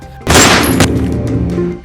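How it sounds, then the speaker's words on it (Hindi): One sharp pistol shot, fired at a bottle balanced on a man's head, cracks loudly after a brief quiet moment and trails off into a fading echo and rumble. "गोली चलने की आवाज आती है।"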